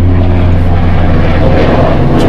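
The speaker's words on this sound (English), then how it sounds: "there's a helicopter coming overhead." A helicopter flies overhead outdoors, its loud, steady engine and rotor drone filling the whole moment close by with no talking.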